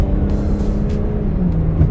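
A car engine drones steadily at light, quarter throttle on a road, a continuous close rumble with no talking.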